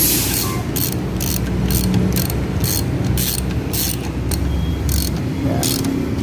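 A ratchet clicks steadily in rapid bursts while bolts are tightened on a Suzuki K6A engine during a rebuild, up close and loud over a constant background hum.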